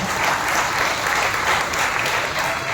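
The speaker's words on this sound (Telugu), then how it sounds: "బిగ్గరగా చప్పట్లు కొట్టి ప్రభువుని మైపరచాలి." Easter worship congregation in Nellore clapping loudly together, a thick, sustained wave of applause filling the hall from start to end.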